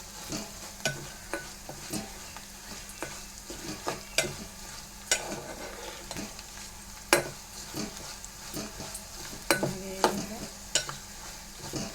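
Moong dal frying in a pan while being stirred, a soft steady sizzle broken by repeated sharp scrapes and clinks of the spoon against the pan, close and alone without talk.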